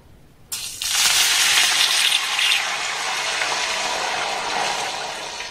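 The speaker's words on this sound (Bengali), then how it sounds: "এবার দেখুন এই বাটির মাপ করে 1 বাটি এখানে আমি জল দিয়ে দেব।" A bowlful of water is poured into a hot pan holding coconut pitha ingredients with mishri and ghee, starting with a sudden hiss and then settling into a steady close sizzling and bubbling rush.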